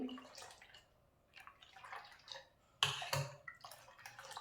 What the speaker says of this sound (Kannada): ಇವಾಗ ಇನ್ನೂ ಸ್ವಲ್ಪ ನೀರನ್ನು ನಾನು ಹಾಕ್ಕೊಳ್ತೇನೆ